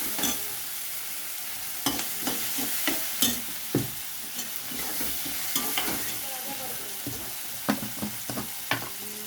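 Onion sautéing with salt in a pan, cooked until lightly reddened: a steady close sizzle with repeated scraping clicks and knocks of a spoon stirring, no talking.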